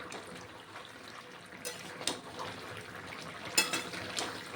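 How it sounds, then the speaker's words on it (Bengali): A pot of bottle gourd and lentil dumpling curry is stirred with a few soft scrapes and clinks of a spoon against metal, faint and sporadic over a quiet background hiss. "একটু নাড়াচাড়া করে নিচ্ছি।"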